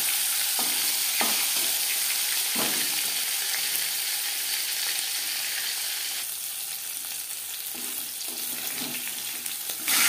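Fish frying in a hot pan, a constant close sizzle broken by a few sharp clinks and scrapes of stirring or turning.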